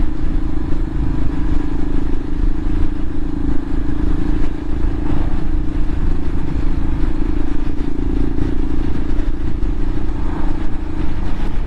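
A Royal Enfield Himalayan motorcycle ridden on Ortega Highway gives a steady, continuous engine drone at an even pace throughout, with road and wind rush mixed in and no talking.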